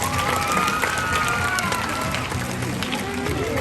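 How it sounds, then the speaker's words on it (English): A crowd at a sea lion show applauds and cheers in a steady, dense wash of clapping that holds for several seconds, with whistles and crowd noise mixed in. "Let's give him a big round of applause."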